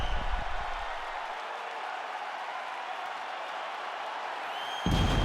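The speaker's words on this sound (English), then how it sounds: "So the crowd voicing its appreciation after that round" Crowd in a UFC 5 video game fight arena cheers and applauds after a round: a steady, dense roar of cheering that continues throughout, with a louder swell near the end.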